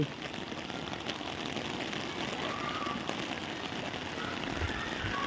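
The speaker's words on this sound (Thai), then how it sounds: "วันนี้ฝนตกด้วย" Steady rain falls outdoors on school grounds, an even, close hiss of drops with a few scattered taps, continuous and without talk.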